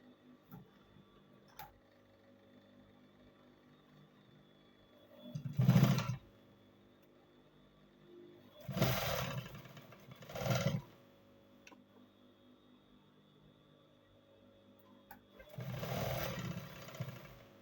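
A sewing machine stitches a shirt collar in four separate bursts of rapid mechanical whirring and clatter, close and fairly loud, with quiet pauses and faint handling sounds between runs.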